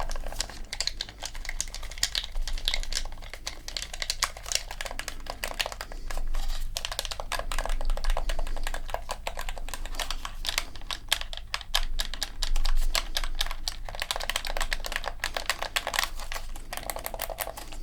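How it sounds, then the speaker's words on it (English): A PlayStation controller's buttons pressed quickly up close, a continuous fast run of soft plastic clicks and rattles, quiet and steady throughout with no voices. "How does that PlayStation controller sound to you?"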